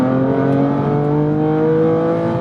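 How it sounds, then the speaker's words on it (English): A 2019 BMW M4 CS with M Performance parts and its S55 turbocharged inline-six revs hard, a loud continuous engine note holding high and steady throughout without talk. "The way that the S55 engine just revs out so freely for a turboed inline six just never fails to amaze me."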